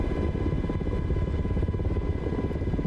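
Black Hawk helicopter engine and rotor in Microsoft Flight Simulator, a steady loud droning whine with continuous low rotor thrum and high tonal hum, unbroken and without speech.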